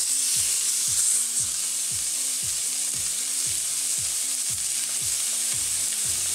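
Bacon and meat sizzle loudly and steadily on a hot grill for a Venezuelan pepito, with a faint rhythmic low thumping underneath.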